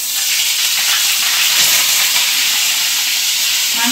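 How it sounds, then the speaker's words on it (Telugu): Onion paste fries in a hot pan of fish curry base, giving a loud, steady, close hiss and sizzle throughout with no voices. "దీంట్లోనే ఉల్లిపాయ పేస్ట్"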